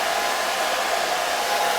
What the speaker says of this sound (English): I've been running the blow dryer on this for a little while